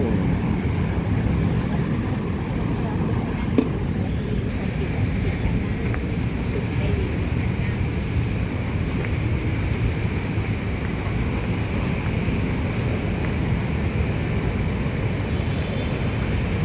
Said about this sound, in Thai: ตอนนี้รถไฟฟ้า BTS กำลังจะเข้าเทียบสถานี สาราแดงนะครับ